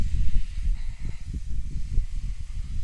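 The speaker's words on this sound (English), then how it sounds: "I believe when it stops sizzling, it's essentially complete." Steady close hiss and sizzle with low crackling rumble from a paint can making homemade charcoal on a fire, continuous throughout with no voices.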